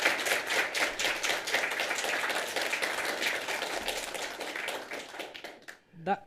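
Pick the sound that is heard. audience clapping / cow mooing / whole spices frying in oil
audience clapping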